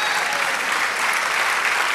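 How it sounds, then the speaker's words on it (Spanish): A church congregation applauds during a Spanish-language sermon, a steady, dense wash of clapping from many hands that fills the whole short stretch without any gaps. "Denle un aplauso al Señor."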